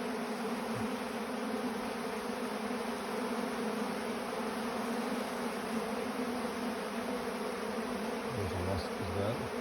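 Honeybees hum in a steady, close, continuous drone around a hive, with a wasp among them and no speech over the even buzzing.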